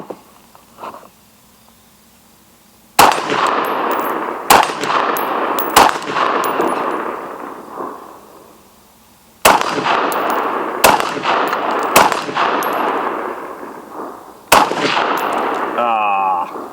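Rifle shots fired at a series of targets in rapid, loud bursts, each sharp crack trailing off into a long ringing echo, with brief pauses between groups of shots.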